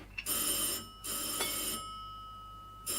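A telephone bell rings in a 1935 Alfred Hitchcock film, two long bright rings with a pause between and a third starting at the end, clear over a quiet background.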